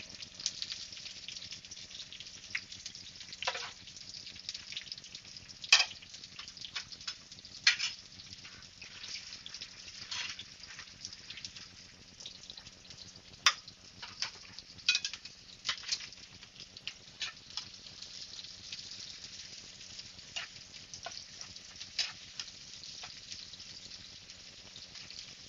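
Onions fry in hot oil in a frying pan, making a faint, steady sizzle dotted with irregular small pops and crackles throughout, with no one talking.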